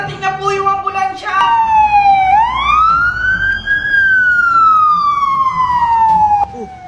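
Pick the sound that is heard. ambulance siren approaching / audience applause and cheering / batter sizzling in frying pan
ambulance siren approaching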